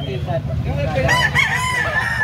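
Rooster crowing at a crowded market in Carbon, Cebu, a rising then falling call over steady background noise and murmuring voices.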